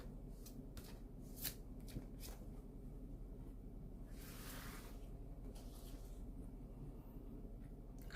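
Oversized tarot cards handled and shuffled near the microphone, with quick papery flicks and a longer sliding riffle partway through, quiet overall and without speech.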